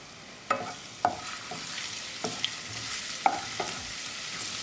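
Ginger and garlic sizzling in oil in a pan for matar paneer bhurji: a steady moderate sizzle with several distinct spatula scrapes and taps against the pan, close up and without talk.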